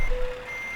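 Repeated reversing beeps from a truck backing up in Euro Truck Simulator 2, a steady electronic tone sounding alone over a faint engine hum.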